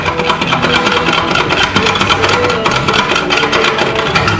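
Kawasaki Vulcan 900 Classic motorcycle engine idling through debaffled pipes, a loud, close, steady throbbing rumble with no talk.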